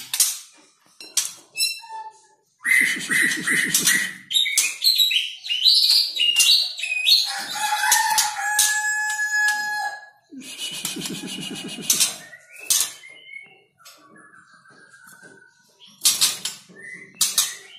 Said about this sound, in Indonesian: ini coba saya turunkan murai batu saya yang udah dewasa